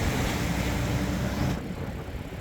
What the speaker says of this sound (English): these big buildings create a lot of draft, so we have a lot of wind blowing